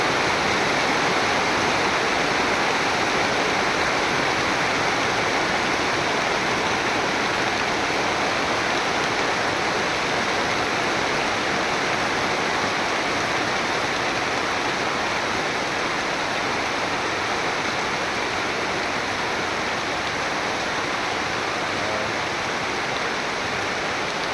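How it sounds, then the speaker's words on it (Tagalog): Heavy rain pours down steadily over an ampalaya (bitter gourd) plot, a dense, unbroken hiss of water that stays loud and constant throughout with no voices. "Sobrang lakas ng ulan dito mga idol."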